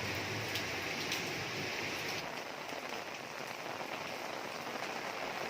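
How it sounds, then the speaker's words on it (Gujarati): A dense, even hiss of heavy rain falling on surfaces and trees, unbroken and close, with no voices. "ફૂલ વરસાદ આવ્યો હતી"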